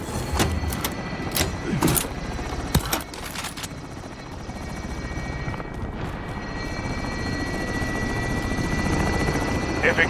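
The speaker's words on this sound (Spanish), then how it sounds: "Helicóptero regresando a la base." Call of Duty Warzone helicopter flying near, with a continuous loud rotor thrum and engine whine, broken early by a few sharp knocks and clanks as the drone carries on and swells slightly toward the end.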